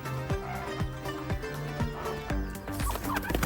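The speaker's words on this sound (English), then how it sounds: "This is the brown chicken right here, and it's pretending to fly." A brown chicken on a farm in India clucks in short, repeated calls at an uneven rhythm, fairly close over a steady background of other farm noise.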